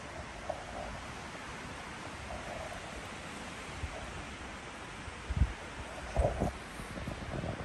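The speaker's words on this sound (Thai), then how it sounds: "มันทั้งลมทั้งฝน" Wind blowing through trees in an Icelandic woodland during wind and rain while mushrooms are gathered, a faint, steady airy rush with a few soft gusty bumps and knocks near the end.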